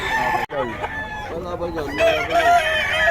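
Roosters crow and chickens cluck close by, several overlapping calls against busy background noise with a faint voice.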